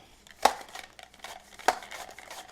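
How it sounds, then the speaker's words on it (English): A kitchen knife slices through a whole onion on a cutting board, giving two sharp, separate chopping thuds about a second apart against a quiet background. "I'm just going to slice the entire onion"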